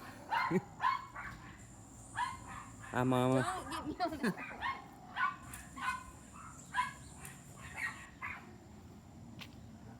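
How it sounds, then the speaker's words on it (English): Several dogs bark and yip intermittently in short bursts under a person talking, with a rooster-like call in the mix. "Sorry for the dogs barking."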